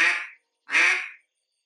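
Two loud, reedy duck-call quacks, each about half a second, separated by a short silence.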